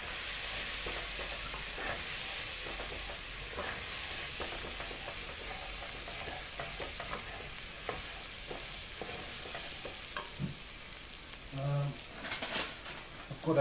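Pumpkin and pork cheeks with turmeric and spices sizzle in a pan while being stirred, a steady frying hiss with scraping stirs and occasional clinks, loud and continuous throughout.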